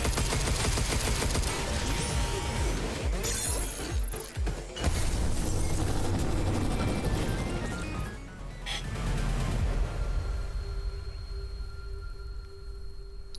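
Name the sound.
gunfire in the video game Pragmata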